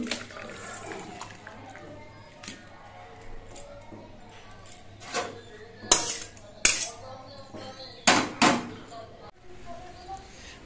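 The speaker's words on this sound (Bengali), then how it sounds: "এবার মাছের ঝোলটা আমি একটা বড় পাত্রের মধ্যে ঢেলে নিচ্ছি।" Khoira fish curry poured from a pan into a large bowl, giving splashing liquid pours and clinking utensil and vessel knocks in several bursts, close and moderately loud.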